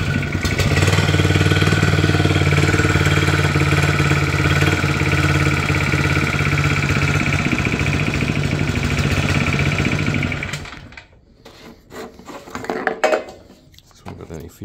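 A Hitachi ZV65R trench leg compactor engine idles loudly and steadily for about ten seconds, then cuts out, leaving quieter clanks and handling noises.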